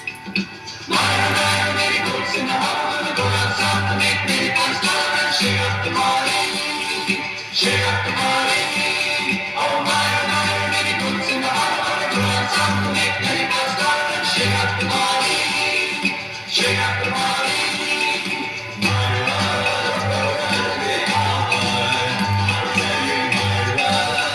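Recording of a song playing with a lilting calypso rhythm, a full band mix with a steady pulsing beat running throughout, loud and continuous.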